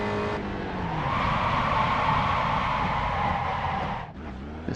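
A Spec Racer Ford in a racing video game at Detroit brakes hard, a sustained squealing tire screech over the engine drone lasting several seconds before cutting off abruptly.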